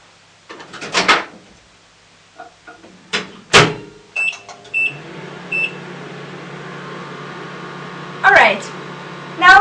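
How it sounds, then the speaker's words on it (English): A microwave oven hums at a low, steady pitch after a few clicks and door-like knocks, with speech over it and a brief beep near the end. "now while this is in the microwave"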